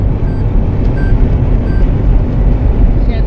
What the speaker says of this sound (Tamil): இன்னும் இவ்வளோ பெரிய லாரி போகுது